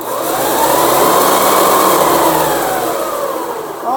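Hoover Preferred commercial vacuum cleaner running close and loud, its motor whining in a steady drone that swells slightly and then eases, with no talking.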